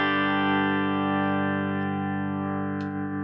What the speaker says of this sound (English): So I got my clean sound.